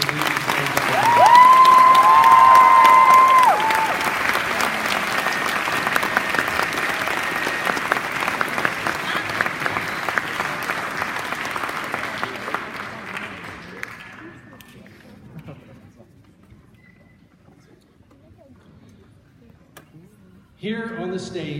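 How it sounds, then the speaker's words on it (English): Awards ceremony audience applauding as judges leave the stage, a loud sustained ovation that tapers over many seconds into near quiet before a presenter's voice returns at the end. "Let's give another round of applause for our judges as they leave the stage."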